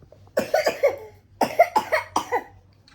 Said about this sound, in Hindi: इतनी तो खांसी है कि उल्टियां कर रहा है